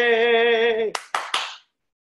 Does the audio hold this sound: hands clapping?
yes